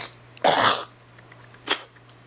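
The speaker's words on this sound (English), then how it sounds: "But I had to clear my throat" A single loud, rough throat-clearing burst, followed a moment later by a shorter, quieter rasp, with a faint steady hum underneath.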